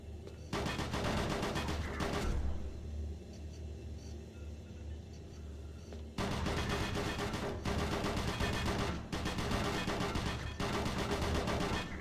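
Gunfire in the PC game Doom 3, dense continuous bursts of shots with a heavy rumbling bed, loud throughout, dropping to a lower rumble midway before the firing resumes.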